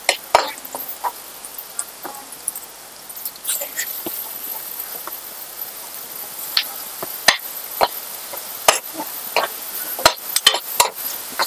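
Garlic and paneer frying in a pan for broccoli soup, heard as a steady faint hiss broken by sharp clicks and taps of a utensil against the pan.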